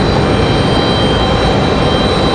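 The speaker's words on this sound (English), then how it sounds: "It is JetBlue 1903 now, headed to San Juan, Puerto Rico." A JetBlue jet airliner departing Raleigh-Durham for San Juan, Puerto Rico, a loud, steady jet engine roar that holds constant across the short stretch.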